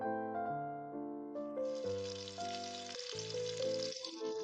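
Chopped onion with a pinch of salt and bay leaves sautés in hot olive oil in a large frying pan, a soft, steady sizzle beneath louder melodic music.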